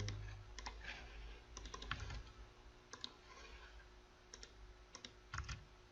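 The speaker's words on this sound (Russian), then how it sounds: "я ввожу свой логин и свой пароль" A login and password being typed on a computer keyboard: quiet, close key clicks in quick irregular clusters separated by short pauses, with no voice over them.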